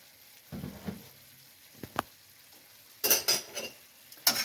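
Spoon stirring homemade barbecue sauce with apple cider vinegar in a pot, giving soft wet swishes and a few light scrapes and clinks against the side, close and quiet.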